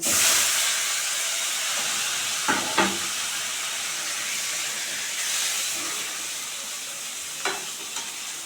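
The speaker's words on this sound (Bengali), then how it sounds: "এখন মাথাটাকে ভেজে নেব" A fish head frying in hot oil in a pan, giving a continuous loud sizzle and hiss with a few sharp spits and clinks, close up and without talk.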